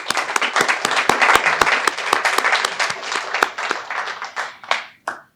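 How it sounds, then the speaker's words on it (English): An audience at a homecoming alumni award celebration applauds with dense, sustained clapping that rings out briefly and then fades to a few scattered claps. "Let's give them a round of applause."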